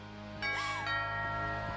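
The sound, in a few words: doorbell ringing in the video game What Remains of Edith Finch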